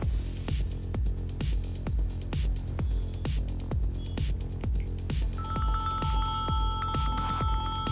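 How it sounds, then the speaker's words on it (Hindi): A phone rings with an electronic ringtone over a steady beat, the tone repeating in regular bursts with a higher melodic pattern joining near the end. "पिंटू को फोन लगा दो।"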